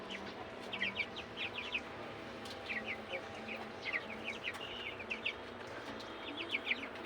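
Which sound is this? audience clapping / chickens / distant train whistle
chickens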